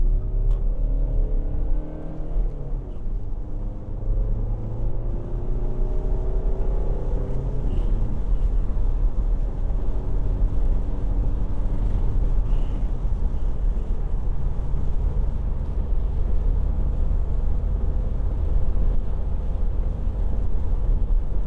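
Steady low engine rumble from a 2011 Audi A5 2.0 TDI S Line Sportback with a 6-speed manual, heard from the cabin while driving, with wiper noise and a quiet, continuous hum and no talking.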